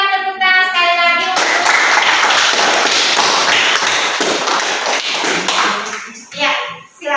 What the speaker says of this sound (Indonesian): Berikan tepuk tangan sekali lagi